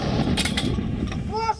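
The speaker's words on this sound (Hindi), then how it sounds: "थार रेगिस्तान में भारतीय सेना की बहुत कामयाब रही 105 मिलीमीटर की इंडियन फील्ड गन भी" An Indian Army 105 mm Indian Field Gun fires during an exercise in the Thar desert, with a heavy, booming blast rolling out over a short, rumbling stretch.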